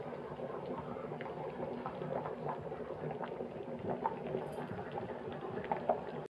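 A pan of vegetable curry with extra water simmers and bubbles, a soft continuous gurgle with small pops, fairly quiet and close.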